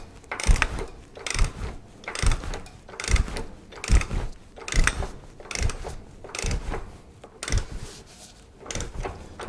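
An Onan 884 cubic inch V8 generator engine is cranked over by hand, about a dozen rhythmic mechanical heaves with ratcheting clanks and bumps against compression, close and loud with no voices.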